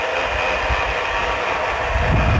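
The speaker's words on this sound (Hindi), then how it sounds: "इसको पावर ऑन करते हैं" A tower fan switching on and running, giving a steady broadband whoosh of moving air with a low motor hum that swells slightly toward the end, close by and without talk.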